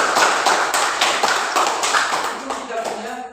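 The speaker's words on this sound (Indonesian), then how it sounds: "Tepuk tangan untuk Tiara" Classroom clapping at a junior high school as pupils applaud a classmate, a burst of rhythmic hand claps in unison that is near and loud, then tapers off as a voice begins speaking.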